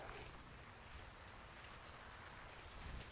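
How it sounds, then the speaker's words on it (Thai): Heavy rain pours without letup over a greenhouse roof in strong wind, a dense, steady hiss that fills the whole stretch alone, with no voices. "ฝนตรงนี้ฝนตก บ่หยุดบ่หย่อนเลย"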